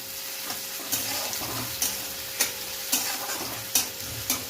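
Onion frying for homemade chow mein is tossed in a pan over a steady sizzle, with regular sharp scrapes and knocks of the spatula roughly every half second, close and clear.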